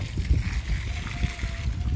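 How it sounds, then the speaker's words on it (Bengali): Water splashes and trickles in uneven bursts close by as garden plants are watered, with faint background noise and occasional soft sloshing. "এই যে গার্ডেনিং টাইম, পানি দিচ্ছ"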